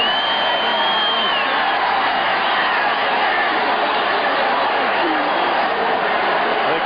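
Football stadium crowd cheering for the Packers during a 1981 Seahawks at Packers game, a steady loud roar of distant voices that does not let up, with a commentator talking over it.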